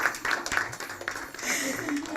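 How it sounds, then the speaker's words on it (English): Graduation audience clapping in a community hall in Jersey City, a continuous patter of many hands at moderate distance, with voices talking underneath. "You can clap, guys."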